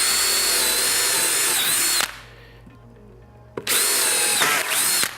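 A power drill bores a ring of holes in a workpiece too large for the drill press, whining loud and steady for about two seconds, stopping, then starting again for a second close-up run.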